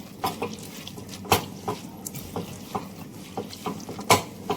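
Red lentils mashed and mixed by hand with chili, potato, tomato and raw mustard oil make soft, wet squelching pats at an uneven pace, close and moderately quiet, with no talking.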